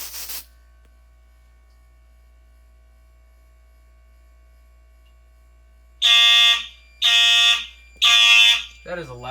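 Three loud, sustained blasts from a 34T fire alarm horn during a home system smoke detector test, each lasting about a second with short gaps, following a long quiet stretch with faint mains hum; a brief voice comes at the very end.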